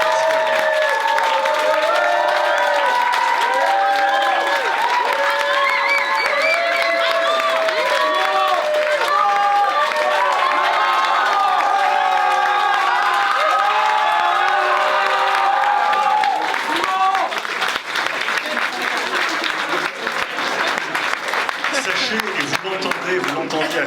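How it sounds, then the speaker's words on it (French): Loud audience applause and cheering at a 2022 certificate ceremony, sustained across the whole stretch with shouts and whoops over steady clapping, thinning slightly toward the end. "j'aimerais qu'on les applaudisse très fort"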